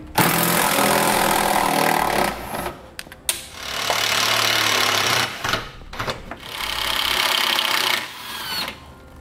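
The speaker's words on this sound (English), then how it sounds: "So we'll take our bolts out." A power tool runs in sustained bursts, backing out the three 8mm bolts that hold the exhaust heat shields on a 2008 Lincoln MKX, with short pauses between the loud whirring runs and no talk.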